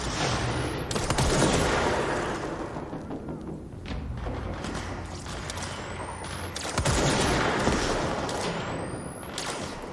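Sniper pistol gunfire in the video game Control, loud rapid bursts of shots and heavy thuds filling the scene, swelling twice, with a brief spoken word.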